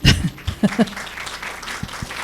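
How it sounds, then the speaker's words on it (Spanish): Audience at a panel session on independent media founded by journalists gives brief, scattered applause, with a few louder claps at the start and some faint voices and chuckles mixed in before it thins out. "dan un aplauso"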